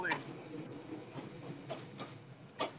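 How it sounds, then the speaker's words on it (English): Train rolling past the train track café in Hanoi, a steady rumble with a few clanks, heard close up under talk. "Bye, train."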